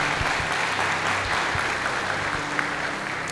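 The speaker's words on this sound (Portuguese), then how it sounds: "Você pode aplaudir ao Senhor mais uma vez?" A church congregation applauds, a dense, even wash of clapping held steady for several seconds.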